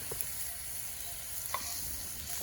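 Drumstick pieces tossed with chilli powder, turmeric and salt in a pan for a curry sizzle steadily, with a few soft stirring scrapes near the start, middle and end.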